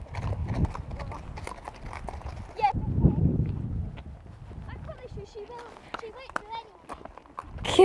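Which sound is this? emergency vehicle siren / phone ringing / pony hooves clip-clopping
pony hooves clip-clopping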